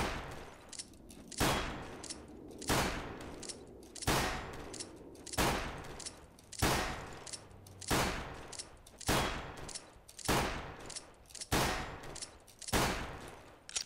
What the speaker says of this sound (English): start with burst on the ground, jump, switch, and then fire while you're still in midair